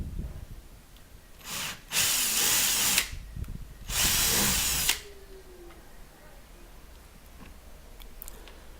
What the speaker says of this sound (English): So next, we're just going to bore out that hole a little bit more.